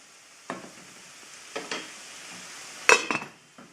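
A vegan bacon poblano patty mixture simmers in a pan with a soft, steady sizzle, broken by a few scraping stirs and a sharp utensil clink near the end.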